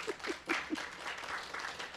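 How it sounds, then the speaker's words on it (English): Quiet, scattered clapping comes from a congregation at a Sunday service, a few distinct claps at first and then a soft, thin patter of hands, fairly faint and distant in the room. "So give yourselves a clap."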